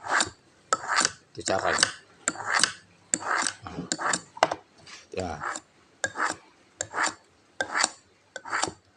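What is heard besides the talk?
dull kitchen knife sharpened by pulling it backward on a plate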